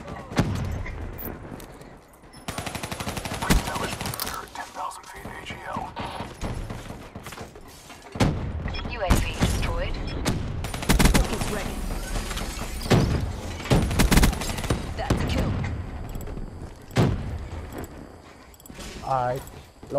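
Gunfire from a Call of Duty Zombies match on the Moon map, with bursts of shots and blasts scattered through the clip and a voice talking over much of the action.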